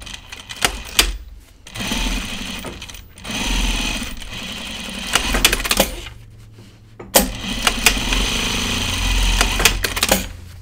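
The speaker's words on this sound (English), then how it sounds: "let's put in my two rows of stitching here." Sewing machine running fast bursts of straight stitching along two rows on jeans denim, loud and close, with short pauses and clicks between runs.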